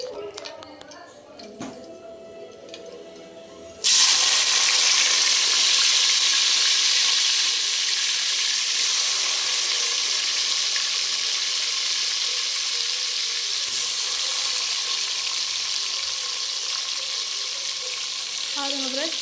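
Onions drop into hot oil in a pan and burst into a sudden loud sizzle that holds steady and close for many seconds, after a few quieter handling noises and brief speech.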